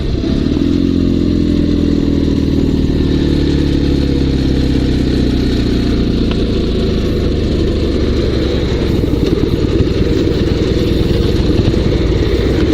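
A Dnepr sidecar motorcycle engine running with a fault, loud and close, with a rough, uneven low rumble and clattering mechanical noise throughout, no talking over it.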